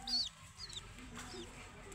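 A held native chicken being given Ranikhet vaccine eye drops gives a few soft, brief clucks and squawks up close in a quiet setting.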